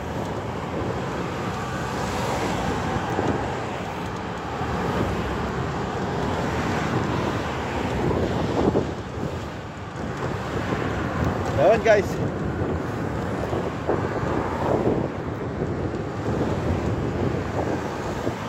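Wind buffets a microphone outdoors above an underground train passage, a steady broadband roar with gusts throughout, while someone talks over it.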